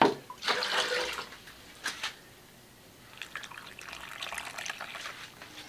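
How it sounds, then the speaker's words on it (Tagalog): Water splashes and pours into a bowl of cornstarch in short bursts, with a brief trickle and a second longer pour near the end, fairly close. "At lalagyan natin siya ng tubig."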